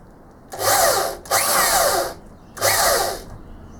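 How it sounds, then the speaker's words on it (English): Power drill dimpling a metal part as a pilot mark before drilling on a drill press, in three loud bursts of whirring with short pauses between, close up in a workshop. "I don't want to drill all the way through with this, I just want to dimple it so I know where to drill on the press."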